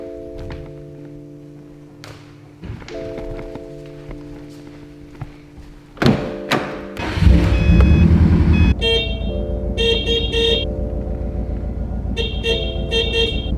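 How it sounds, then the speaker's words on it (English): Car horn honks in a garage setting alongside an 800 horsepower Evo build, several short toots and longer blasts with a vehicle alarm-like chirping, loud and close, no speech. "What kind of horn is that anyway?"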